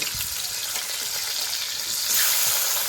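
Bata fish fries in hot oil in a wok, a steady close hiss of sizzling that swells louder near the end as the fish is turned.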